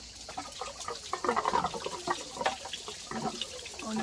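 Water trickles and splashes unevenly from an unscrewed fitting on a pool salt electrolyser, a close, moderate burble of liquid with brief gushes and no voices.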